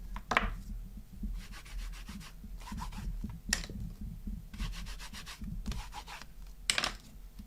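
Rubber stamps scrubbed clean on a Stampin' Scrub pad, with repeated close brisk rubbing strokes in short bursts and a few sharp taps between them.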